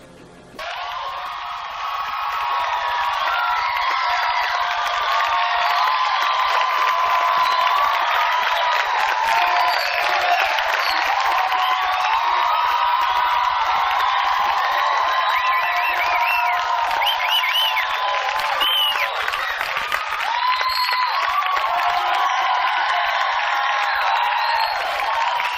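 A crowd greets the original Batmobile on tour with sustained cheering, a dense wash of voices and whoops that swells in quickly and stays loud throughout.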